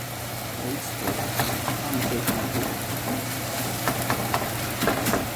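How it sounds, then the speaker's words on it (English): Food for Haitian pâtés sizzles in a pan with a steady crackling hiss and scattered pops, accompanied by a low constant hum in the background. "I'm gonna let it sizzle."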